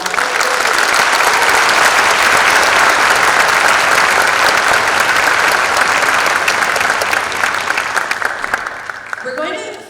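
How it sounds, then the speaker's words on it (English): Audience applause after a school winter band concert, a loud, dense burst of clapping filling the room, sustained evenly before tapering off near the end. "So can we give your former music teachers a round of applause?"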